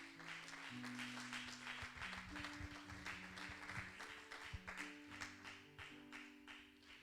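A church congregation applauds and cheers during a French-language sermon, steady dense clapping lasting throughout with sustained tones from instruments underneath.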